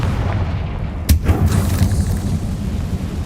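A Confringo blasting spell explodes in Hogwarts Legacy, one loud, deep boom landing just after a second in, with a short rumbling tail over a constant background roar.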